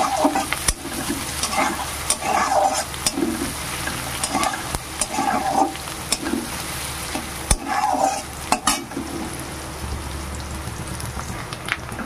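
Chopped onion and a little ginger fry in oil with a continuous crackling sizzle, broken by repeated scraping strokes and sharp taps of a spatula stirring the pan.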